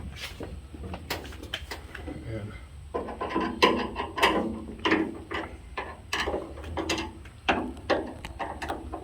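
Metal door bolts being loosened with a wrench on a 1966 Ford Bronco during restoration, giving close, repeated ratcheting clicks and clanks in irregular bursts, with brief speech in the background.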